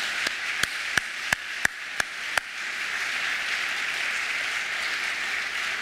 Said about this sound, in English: So a round of applause and thanks to all those organizations